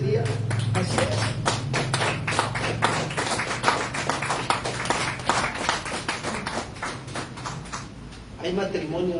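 A church congregation claps loudly and rhythmically in a Spanish-language worship service, a steady run of sharp hand claps that fades near the end.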